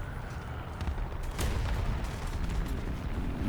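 Tank cannon fire in the War Thunder video game, with a Japanese tech tree match; a dull boom lands mid-clip over a constant rumbling battle backdrop of engine noise and distant shots.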